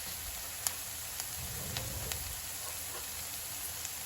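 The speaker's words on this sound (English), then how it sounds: "So let the onion little bit saute, it gets lighter, translucent, the pinkish soft." Chopped onion sautés in a pan with a soft, steady sizzle, faint and even throughout, with a few light clicks of stirring or utensil contact and no talking.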